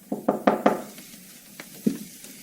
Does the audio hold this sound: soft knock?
yes